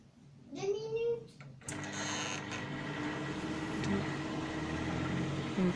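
A microwave oven running with a popcorn maker tilted inside gives off a steady, close, even hum after a brief clunk. A short vocal sound comes at the start.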